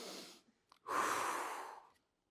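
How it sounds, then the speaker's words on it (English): A person breathes in through the nose and then blows out through the mouth, a soft sniff followed by a long, close, audible exhale, with no talking. "You suck air into your nose and you blow it out of your mouth."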